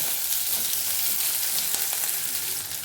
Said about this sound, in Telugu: చూడండి, వేగుతూ ఉన్నాయి. ఇంకొంతసేపు వేయించుకుందాము.